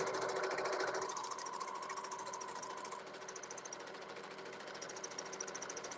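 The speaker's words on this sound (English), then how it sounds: "So just stitch all kind of crazy" A sewing machine runs in a fast, continuous rapid stitch while stitching densely over sunflower fibers, loud at first, then settling to a steady chatter.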